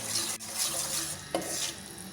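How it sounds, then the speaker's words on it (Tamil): Wheat flour halwa (kada prasad) being stirred in a pan gives a close, continuous scraping and soft sizzling, with a couple of brief knocks of the spoon and no talking. "நான் ஒரு 5 நிமிஷமாக கிளறிட்டுருக்கிறேன்."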